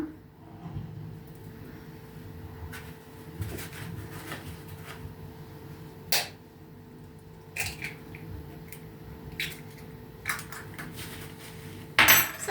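Two eggs go into a ground chicken fillet mixture for pancakes, giving scattered light clinks and taps of shell and utensils on a bowl, with a sharper crack-like knock near the end.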